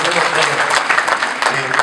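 Steady, loud applause from a lecture audience keeps going as a dense, even clatter of many hands clapping nearby.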